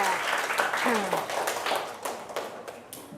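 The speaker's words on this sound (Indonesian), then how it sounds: "Berikan aplaus ya untuk temannya ya." Classroom applause for a student in a maths lesson, a dense patter of many hands clapping at moderate volume for about three seconds, with a few voices mixed in.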